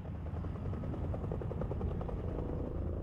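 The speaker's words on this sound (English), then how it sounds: "a series of armed CH-47 Chinooks known as go-go birds" An armed CH-47 Chinook gunship helicopter from the Vietnam War era makes a steady, loud rotor thump with a continuous engine drone, heard alone.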